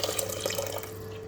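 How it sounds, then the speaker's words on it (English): Water is poured into a pot of fried lentils for a dhaba-style lentil soup, giving a faint, close trickle and splash that tapers off after about a second. "I am going to add in 5 cups of water inside now"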